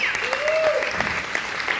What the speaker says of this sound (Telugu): So we can give a great applause.